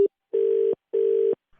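A repeated phone-call disconnect tone: a short blip followed by two longer steady beeps with gaps between them, loud and close.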